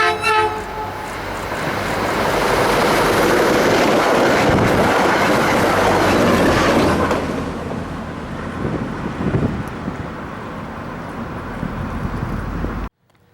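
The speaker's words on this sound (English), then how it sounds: "we see the second Springfield-bound CT Rail train of the day" CT Rail commuter train 4406 bound for Springfield passes through Thompsonville, Connecticut, a loud, steady rumble of wheels and cars building to a peak mid-pass, then easing off with a faint horn toot near the start.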